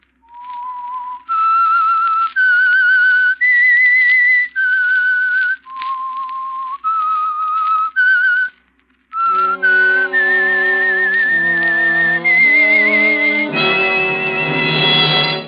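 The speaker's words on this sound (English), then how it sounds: "That whistle is your signal" A melodic whistled tune, the 1945 radio show theme signal for The Whistler, of sustained notes, the first part solo and the later phrases joined by a lower accompanying melody, clear and prominent.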